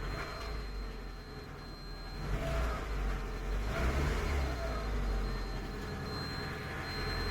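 Ford Capri XR2 engine idling just after being brought back to life, running a little unevenly with a steady low rumble that swells slightly, moderately close.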